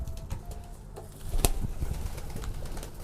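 Breeding pigeons in a loft coo softly and shuffle about, with a sharp burst of flapping wings midway, all close by in a busy, rustling space.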